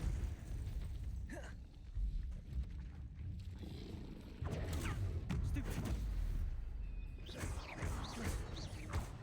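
Spell effects from Hogwarts Legacy, casting Arresto Momentum, Defendo, Glacius and Depulso in combat: a steady rumbling bed with repeated bursts and whooshing blasts, loud and close, clustering around the middle and end.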